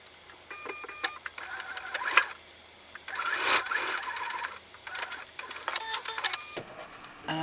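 A sewing machine stitches two quilt block pieces together, running in several short bursts of rapid whirring with brief pauses between them, close by and fairly quiet.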